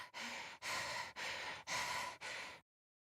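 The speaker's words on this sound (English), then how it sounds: "Why are you panting like that?" A character in the video game The Hundred Line pants heavily, five rapid breathy gasps in an even rhythm, close and fairly loud, then silence.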